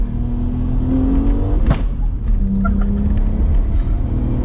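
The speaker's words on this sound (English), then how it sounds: "I'm gonna flash shift this guy." A tuned 500-plus horsepower Audi A4 revs hard on a country lane, the engine note climbing, then a sharp pop at the flat-shift before the drone picks up again, loud and close.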